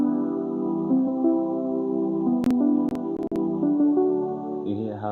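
A string section with its high end filtered out plays sustained, muffled chords alone, a few sharp clicks breaking in midway before a lower note enters at the end.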